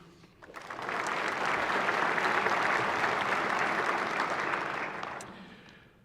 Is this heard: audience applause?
yes